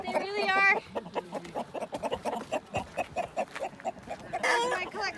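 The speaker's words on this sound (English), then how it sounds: "But the hens are so happy." Hens at a bird auction clucking close by, a busy run of short repeated clucks with a couple of longer squawking calls at the start and end, under light background noise.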